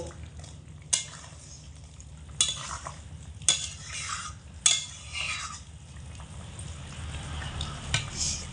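Vegetables with chopped coriander leaves stirred in a pan for a flat bean, potato and eggplant dish: a few scraping clinks of a utensil against the pan over a low, steady cooking rumble.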